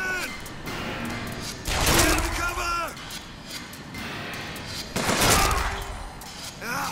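Gunfire in Bioshock Infinite: two loud bursts of shots around two and five seconds, set against a steady game ambience with voices talking.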